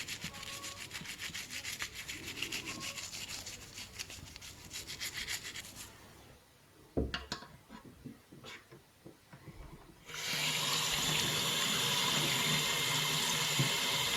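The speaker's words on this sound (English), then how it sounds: "Just run it under the hot water tap just to remove any of the residue." Hot water tap runs over degreased Corvette parts, a steady hiss of flowing water with rubbing and scrubbing, a few clunks and knocks midway, then a louder, brighter gush of water to the end.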